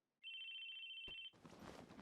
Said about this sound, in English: Sure enough, the ringing was coming from the cell phone I'd bought just a few days ago.